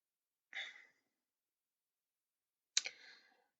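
Two crisp computer mouse clicks, about two seconds apart, close and isolated against silence.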